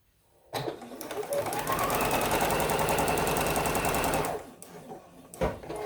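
A sewing machine stitches a quilt border in one continuous close burst of rapid, even mechanical chatter lasting about four seconds, then stops, followed by faint handling clicks.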